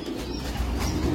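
A senior racing pigeon in its loft gives soft, close cooing in a low continuous burble, with faint rustling around it.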